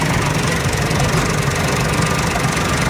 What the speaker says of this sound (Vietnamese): Máy đang hoạt động luôn, rất nhẹ nhàng.